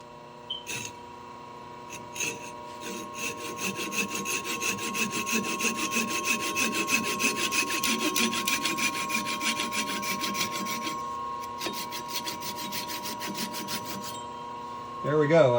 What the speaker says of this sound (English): I'm going to use just a small cheap handsaw to cut it off